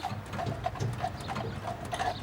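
Two Ardennes draft horses clip-clop at a steady walking rhythm, their hooves sounding moderately close amid creaks and rattles of harness or cart gear.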